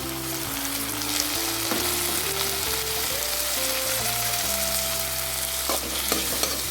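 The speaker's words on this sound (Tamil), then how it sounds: "ஆட் பண்ணி நல்லா இதையும் வதக்கணும். ஸோ தக்காளி பழமும் நல்லா வதங்கட்டும்." Chopped tomato sautéing with onions in a pan for a Tamil okra tamarind curry (vendakkai puli kulambu), a steady close sizzle and frying crackle with stirring, while tonal background music plays throughout.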